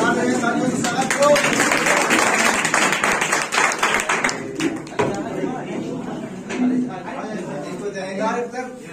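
An audience claps steadily at an event, dense rapid patter filling the first several seconds, then thinning and fading while a voice talks over and after it.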